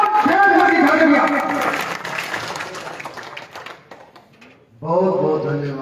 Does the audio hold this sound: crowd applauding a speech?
yes